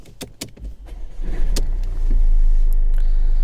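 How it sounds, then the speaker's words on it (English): A Mercedes A-Class (2015–2018) starting from inside the cabin: a few clicks and thumps, then the engine cranks and settles into a steady low idle, close and fairly loud. "So what you first need to do is start the car."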